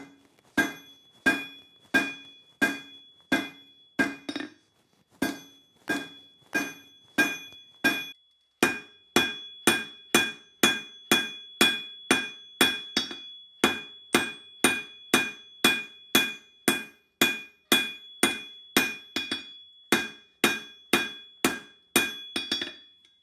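A hammer forges a coil-spring steel bar over and over in a steady, even rhythm, each blow ringing with a bright clang, close and loud, with a brief pause early on.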